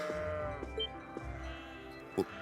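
Sheep bleating in the video game Trails of Cold Steel, a few short bleats over a steady ambient tone, with one louder call near the end.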